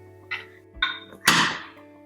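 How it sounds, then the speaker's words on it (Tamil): A pressure cooker lid is fitted and closed over a tomato and brinjal dish: three close metallic clunks and scrapes, the last one loudest and followed by a brief rattle, with no talking. "இப்போ குக்கர் மூடியை மூடி வச்சிடலாம்."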